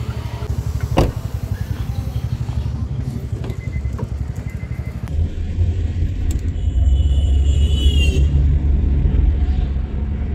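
A car driving along a narrow city street in Srinagar, its engine a steady low rumble with some road noise, louder and heavier in the second half, no talk.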